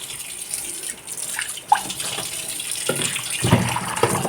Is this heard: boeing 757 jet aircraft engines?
no